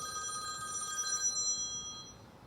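A telephone rings with a steady electronic trill through a room, fairly soft and continuous, over a low background hum, with no voices.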